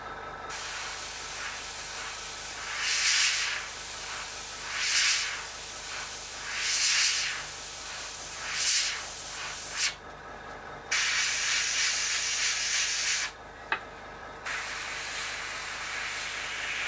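Spray gun hisses varnish onto a Seafire XV scale model in a series of short, regular bursts, followed by longer continuous spraying with a brief pause, close and steady.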